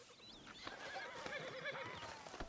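A horse in Red Dead Redemption 2 whinnies in a few wavering, high calls over a soft background of hoof clops, moderately close and alone without talk.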